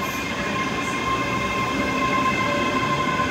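A Class 385 electric train departs Edinburgh Haymarket station with a steady rolling rumble, faint wheel squeal and an electric whine, loud and close throughout.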